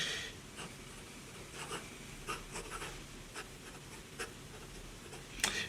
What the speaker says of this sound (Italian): Sto utilizzando una stilografica